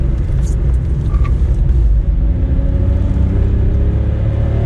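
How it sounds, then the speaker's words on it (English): A Volkswagen Up's 1-litre three-cylinder engine hums and revs steadily up close, a continuous low rumble with no pauses. "it's got a little 1 litre 3-cylinder engine, so it makes an interesting noise"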